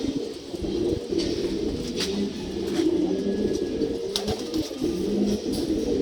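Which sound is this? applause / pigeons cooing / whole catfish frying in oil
pigeons cooing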